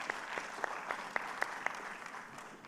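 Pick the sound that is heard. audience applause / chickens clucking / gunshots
audience applause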